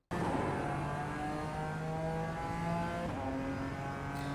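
A BMW M4 GT4 engine in iRacing at Watkins Glen builds power out of a slippery corner, a steady loud drone with smoothly rising harmonics that dip briefly as the revs shift, then keep pulling.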